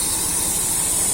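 Pressure washer spraying water onto a Yamaha Nmax scooter, a steady, close, loud hiss of spray with no break.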